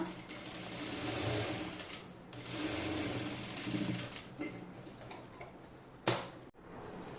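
A sewing machine stitches a kurti with a steady, close mechanical whir that runs almost continuously, dipping briefly a few times before a sharp click and a short stop near the end.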